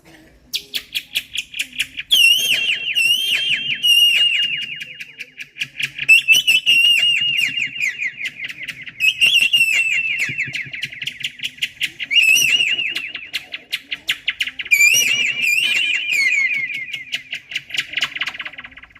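Several voices imitate a mix of birds, peacock, cuckoo, sparrow and parrot, in repeated loud bursts of shrill chirps and calls, with quick stuttering trills between longer whistled cries, all close and filling the space.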